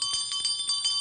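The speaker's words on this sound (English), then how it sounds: "Please take the bell in your left hand and ring the bell loudly above the heart level" A handheld bell rung during a Hindu puja ritual, a bright sustained ringing with rapid repeated strikes, close and clear with no talking.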